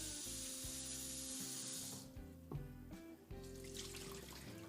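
Cold tap water running over blanched cauliflower in a kitchen sink, a bright steady hiss for two seconds that then breaks into irregular splashes and clatter as the florets are rinsed.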